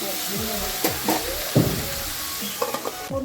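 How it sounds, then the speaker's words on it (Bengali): Ridge gourd and potato curry is stirred in a sizzling pan, with several distinct scrapes and clinks of the spoon over a constant frying hiss, close and clear. "লবণটা দেওয়ার পর খুব ভালো মতো মিক্স করে নিচ্ছি"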